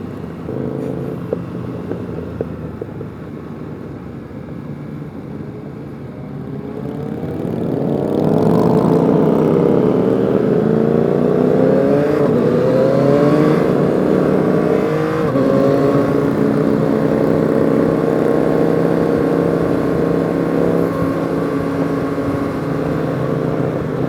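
A group of Yamaha XSR900 motorcycles rides together, engines droning steadily and growing louder as the bikes speed up and rev, with a continuous roar through the second half and no talking.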